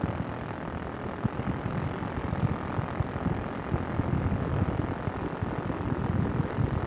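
Ultralight aircraft engine holding about 4,000 RPM in flight, a steady, dense propeller drone with wind rush, continuous and close throughout with no pauses.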